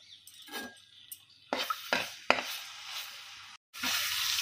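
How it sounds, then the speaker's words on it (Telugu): Ginger-garlic paste dropped into hot oil in a pan, bursts of sizzling and spatter with sharp utensil clinks and scrapes, then a sustained close frying hiss after a brief gap. "ఆయిల్ వేడైన తర్వాత ముందుగా అల్లం వెల్లుల్లి పేస్ట్ వేసుకొని వేయించుకోవాలి."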